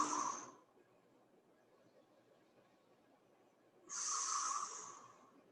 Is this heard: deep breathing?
yes